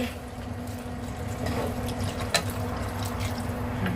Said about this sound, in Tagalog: Magdagdag ako guys ng tubig.